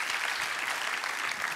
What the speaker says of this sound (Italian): Fate un applauso, Maria Vittoria.